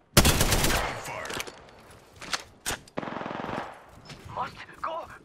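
Automatic gunfire in the video game Apex Legends, with loud rapid bursts at the start, then scattered shots and short volleys trailing off, some sounding farther away.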